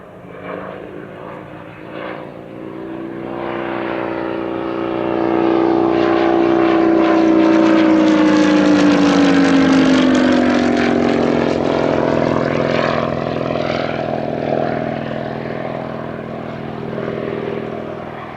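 A piston-engine Provost propeller trainer aircraft drones loudly, swelling as it passes close by, its pitch sliding downward before fading slightly into a steady distant hum.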